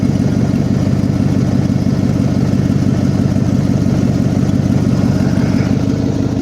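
A 1990 Ford F250 truck engine idles steadily while warming up, a continuous low rumble held at a constant level from start to finish with no voices.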